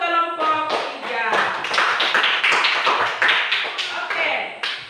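Group applause for a student team in a classroom lesson: a brief voice at the start, then a steady run of fairly close, rhythmic handclaps filling the rest.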